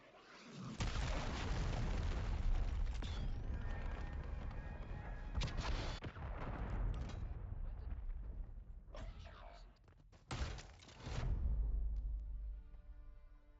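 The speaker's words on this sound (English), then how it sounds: "Hostiles launched a cruise missile." In Call of Duty Modern Warfare 3, a cruise missile strike rumbles with heavy booming explosions and roaring blasts over several seconds, loud with deep low rumble, then a further sharp blast near the end.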